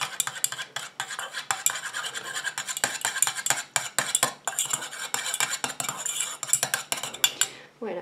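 A utensil whisks quickly against a small container, stirring a water-based cosmetic phase with MSM and allantoin for a soothing cream: rapid, close, rhythmic clinking and scraping that runs steadily for several seconds, then a final tap.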